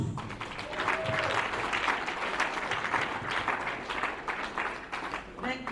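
A crowd applauds at an event, dense continuous clapping from many people at moderate volume, with some voices faintly mixed in and the noise easing slightly near the end.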